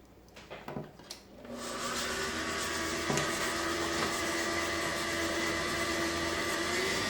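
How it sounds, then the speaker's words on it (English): An electric stand mixer switches on and drones steadily while creaming butter and sugar for almond-filled speculaas, after a few brief clunks at the start. The motor whir is loud and continuous, and no one speaks. "Oh, I guess I should plug in my mixer. And then we're going to cream that together nice."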